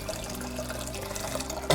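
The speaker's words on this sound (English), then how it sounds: "The water's just going straight in to the pan." Boiled water pouring steadily into a pan to set up a double boiler, a continuous splashing stream heard up close for under two seconds.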